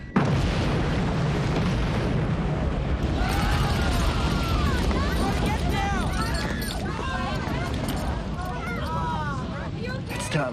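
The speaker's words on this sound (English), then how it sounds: "A bomb in the fuel room." A bomb blast in a ship's fuel room, a film effect: a heavy, sustained roaring rumble fills the whole stretch at high loudness, with shrill tonal squeals and debris-like crackle layered over it and no clear pause.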